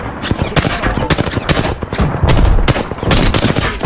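Dense, loud gunfire in Apex Legends, rapid automatic bursts and overlapping shots running nearly nonstop at close range without a break.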